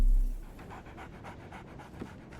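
A dog panting in the game Sherlock Holmes The Awakened, quick rhythmic breathy huffs, soft and near, running steadily after a brief louder start.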